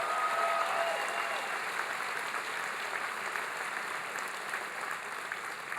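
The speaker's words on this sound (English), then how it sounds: "Please give them a big round of applause." Sustained applause from a crowd honoring hosts at a school event, an even wash of clapping heard at a distance and fairly faint, holding steady throughout.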